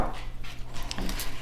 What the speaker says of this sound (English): My puppy has also come into the room, so you can probably hear her in the background.